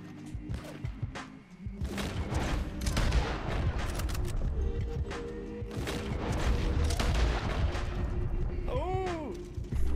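Rifle shots and a sustained barrage of gunfire in a Wild West video game involving a stagecoach robbery, loud and dense with booming blasts, continuous over several seconds.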